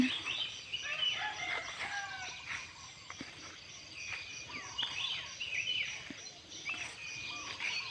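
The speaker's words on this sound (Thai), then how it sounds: "เสียงไก่ขัน" A rooster crows in the distance at dawn, answered by other fowl crowing and clucking, against a quiet outdoor background.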